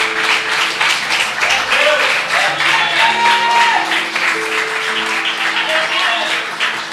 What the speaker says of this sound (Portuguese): Pode aplaudir ela com alegria.